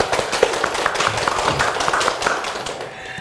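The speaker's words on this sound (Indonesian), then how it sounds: "Tepuk tangan dulu." An audience claps together for the two hosts of a Tabalong entrepreneurship talk show, a dense run of close, crisp hand claps that lasts about three seconds and fades a little toward the end.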